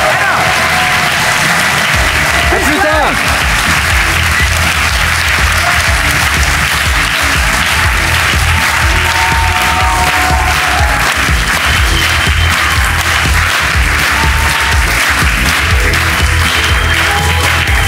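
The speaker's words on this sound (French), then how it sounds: "Un tonnerre d'applaudissements pour Ed et Eda." A studio audience at a French children's TV club show applauds loudly and steadily throughout, with a brief spoken farewell near the start.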